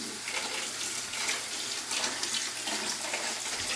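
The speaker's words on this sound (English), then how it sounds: "I just make sure every one is filled to the top." Water runs from a hose into bottles being filled to the top, a steady close splashing and gurgling rush with no talking.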